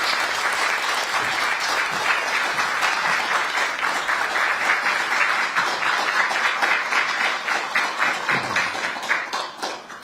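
Loud, sustained applause from an audience at an opening ceremony for a government office in Busan, dense clapping that holds steady and begins to taper off at the end.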